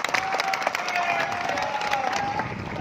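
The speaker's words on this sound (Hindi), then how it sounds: "ताली बजाओ जोरदार तरीके से राम के नाम पे।" Steady applause from a crowd at a devotional religious gathering in Depalpur, Indore, filling the whole stretch with dense, continuous clapping and some cheering, with no pause.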